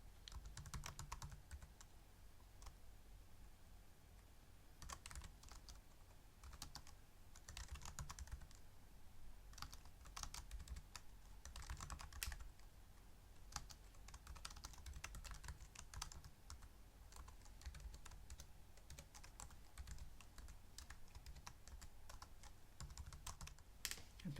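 Steady computer keyboard typing runs throughout, a continuous stream of quick, fairly quiet key clicks with brief pauses and no talking, as a formula is entered.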